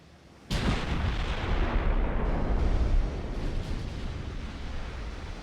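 Naval gunfire from enemy warships in the Ultimate Admiral: Dreadnoughts battleship game: a sudden heavy blast opens into a long, loud, deep rumble of distant cannon fire that rolls on without a break.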